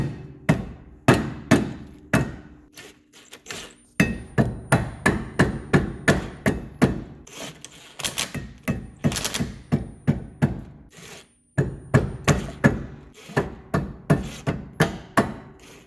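Rapid, sharp metallic hammer blows strike the rear wheel hub bearing assembly of a 2006 Subaru Outback in loud repeated bursts, with a brief pause between sets.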